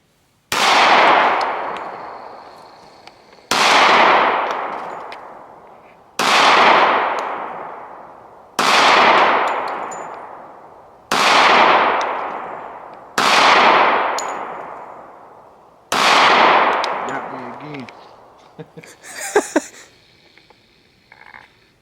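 Seven loud, sharp shots from a Dan Wesson ECP .45 pistol ring out outdoors, spaced about three seconds apart, each with a long echoing tail, followed by faint clattering at the end.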